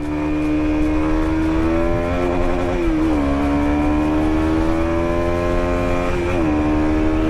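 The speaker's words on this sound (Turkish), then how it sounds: "Motor da bana milimetrik tepki veriyor böyle brrr, brrr yapmıyor." A Kawasaki Z250SL motorcycle engine runs steadily up close with a loud, even drone, its pitch dipping briefly twice as the throttle eases and picks back up.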